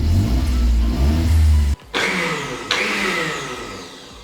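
A light Renault Kwid car accelerating hard from standstill to 100, its small engine revving loudly with a rising strained whine, cut by two brief gear-change dips before climbing again, with no talking.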